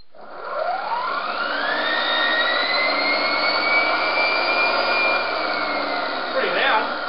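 A series wound brushed DC motor run through a Kelly KDZ48400 controller spins up with a rising whine that settles into a loud, steady high-pitched drone. Near the end it briefly dips and climbs again.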